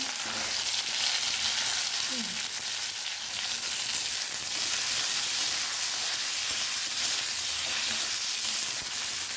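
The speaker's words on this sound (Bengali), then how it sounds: "তেলের মধ্যে পাঁচ পাঁচফোড়ন দিয়ে দিয়েছিলাম তারপরে কাঁচা টমেটোগুলো দিয়ে দিচ্ছি" Raw tomatoes frying in oil with panch phoron, a loud, dense, continuous sizzle that holds steady throughout with little variation.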